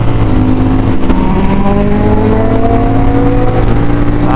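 An Aprilia RS 457 motorcycle engine revs loudly and steadily, rising in pitch through the quick shifter's gear changes, with a couple of sharp clicks or pops on the shifts and no talk over it.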